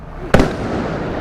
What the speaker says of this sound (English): They're shooting, bro.